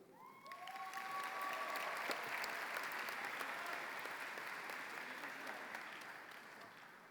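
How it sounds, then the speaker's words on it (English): Sustained applause from a large crowd at a high school commencement ceremony, dense and even, holding steady for several seconds before slowly tapering. "give your principal a big round of applause if you would"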